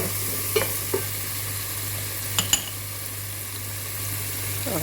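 Chopped tomato frying in a pan while a spoon stirs it: a steady low sizzle with a few sharp scrapes and clinks of the utensil against the pan, close and otherwise quiet.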